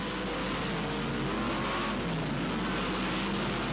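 Race cars roar around the Parramatta City Raceway speedway track in a dense, continuous engine wash that holds steady and loud throughout, with no voices.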